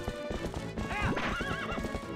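Epona, the horse in the video game Twilight Princess, clip-clops along and lets out a loud, wavering neigh, game sound effects with no talking.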